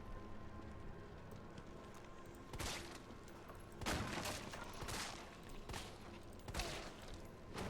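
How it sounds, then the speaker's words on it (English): Gunshots in Resident Evil 3: Nemesis fired at a zombie's feet: a series of irregularly spaced, moderately loud shots over a steady low in-game ambience. "I'm shooting at her feet right now."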